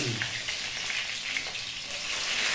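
Garlic sizzles steadily in a hot pan, a dense, even crackle of frying with faint stirring, close and continuous, no voices.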